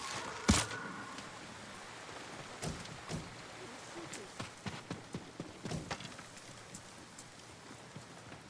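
A white horse gallops in Ghost of Tsushima, a run of faint, evenly spaced hoof thuds building in the middle and fading out, with a sharp louder knock near the start.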